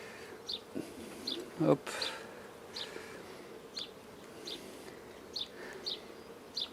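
Honeybees buzzing around an open hive during a spring inspection: a soft, continuous drone with scattered faint chirps, a brief bump, and a single short spoken word.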